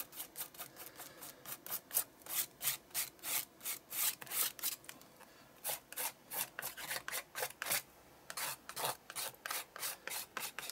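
Medium is scraped onto an art journal page in steady, rhythmic back-and-forth strokes, several dozen in a row. The rasping is soft and close, and nobody speaks.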